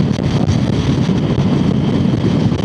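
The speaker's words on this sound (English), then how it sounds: "it's windy out here." Wind buffets the microphone outdoors during a ride, a continuous loud low rumble with no break.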